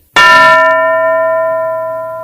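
A single loud metallic strike of a handheld school bell, ringing out with a long sustained tone that slowly fades, alone with no talk.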